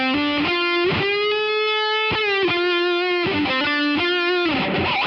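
Electric guitar driven through a Movvall Jumpspace overdrive pedal stacked on distortion, playing sustained, gritty chords and single notes in short phrases with brief gaps, loud and close, with no talking.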